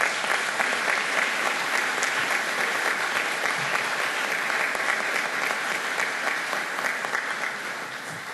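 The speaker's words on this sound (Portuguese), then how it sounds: "a quem eu peço uma salva de palmas" Sustained audience applause at a ceremony honoring Brazilian World War II veterans of the FEB, a dense, even wash of many hands clapping that fades slightly near the end.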